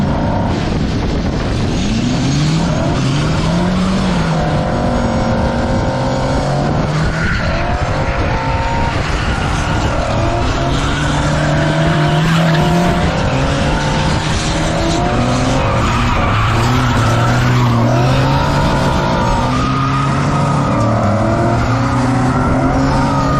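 A car drifting with a loud, sustained engine roar and long squealing tire screeches rising and falling as it slides, close and continuous throughout with no talk.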